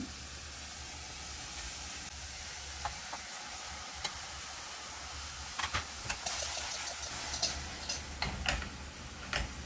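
Tomatoes and curry leaves frying in a pan for tomato chutney give a steady soft sizzle and hiss, broken by scattered sharp ticks and pops that come more often toward the end.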